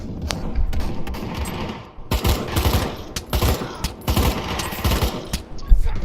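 An M4 rifle with a foregrip and red dot fired in Pavlov VR, a run of loud, close, irregular shots with short pauses between clusters and no talking.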